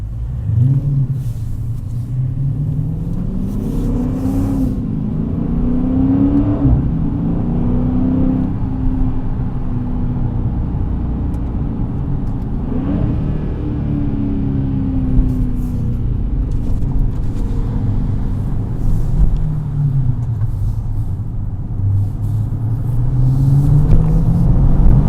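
A 2019 Dodge Challenger R/T Scat Pack muscle car gives a loud, steady exhaust rumble throughout, with a deep idle burble and several rising and falling revs. No one speaks over it.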